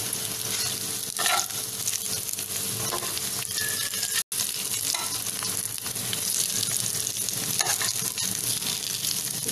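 Poha cutlets sizzle and fry in a pan until golden brown, a steady close crackle of hot oil running throughout with no voices.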